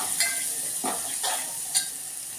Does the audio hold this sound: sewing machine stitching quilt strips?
no